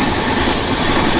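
The CR Rajdhani Express between Delhi and Mumbai runs on the rails, a loud, continuous rumble from close by with a sustained high-pitched wheel squeal riding over it.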